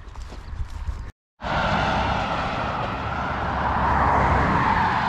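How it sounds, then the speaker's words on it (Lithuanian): Heavy road traffic on a highway in the Birštonas area of Lithuania, with a steady, loud broadband roar of passing cars that swells toward the end, briefly interrupted by a short gap near the start. "Didelis eismas čia."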